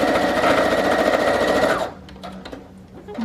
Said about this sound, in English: little double pocket by sewing down the side here and the side here